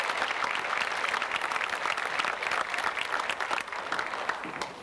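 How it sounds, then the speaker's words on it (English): An audience at the 10th anniversary Barnyard Bash breaks into steady, dense applause that fills the room evenly from start to finish, with no pauses. "Would you like to applaud to that?"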